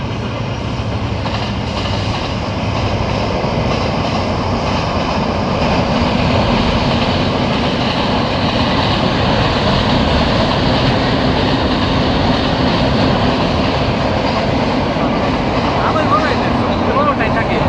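A locomotive hauls a long train of about fifteen coaches, giving a steady loud rumble with faint wheel clatter that continues throughout, with voices heard in the background.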